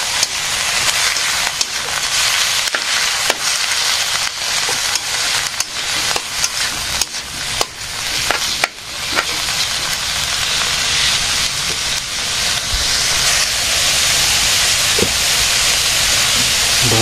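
Onion, dried chili and garlic sizzle in hot oil, a loud, steady frying hiss with scattered crackles and pops running throughout, close up and alone.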